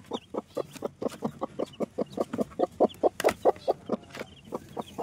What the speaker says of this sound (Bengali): এখানে আমাদের আচিল মুরগির বাচ্চা হয়েছে, 4টে বাচ্চা হয়েছে